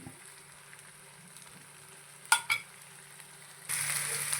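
Mutton frying with a masala paste of spices in a pan, a low, soft sizzle with a couple of sharp utensil clanks midway, then a brighter, louder frying hiss toward the end.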